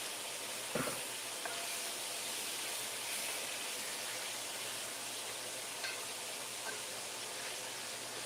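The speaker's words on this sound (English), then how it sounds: "Coating it in that oil. Searing those dudes. Searing those edges." Chicken sears in hot oil in a pan, a steady close sizzle and crackle with a few brief pops and spatters, heard alone.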